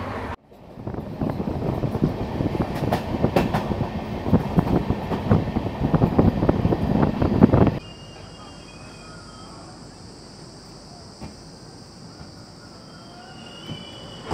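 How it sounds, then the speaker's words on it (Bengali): The 12370 Kumbha Express runs at speed, heard from on board as a loud, rattling rumble with clatter for about eight seconds before dropping abruptly to a quieter, steady hum. "দারুণ ছুটছে ট্রেন"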